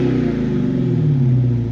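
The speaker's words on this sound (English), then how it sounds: "Probably one of the best exhausts combined with the best supercharger from the front." A 2020 Dodge Charger Hellcat Widebody's supercharged V8 exhaust rumbles deep and loud from outside the car, a steady revving drone whose pitch sags slightly toward the end.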